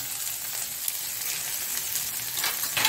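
Onions fry in hot coconut oil and ghee, giving a close, steady crackling sizzle with a bit of stirring toward the end and no talk.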